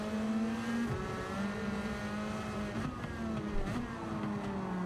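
A race car engine in a sim racing game drones at a steady, fairly faint pitch that shifts only slightly, running continuously with no voices over it.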